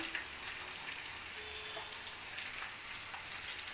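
Onions and tomatoes fry in a pan for an egg curry, giving a soft, steady sizzle and hiss that runs unbroken and fairly quiet throughout, with no voices.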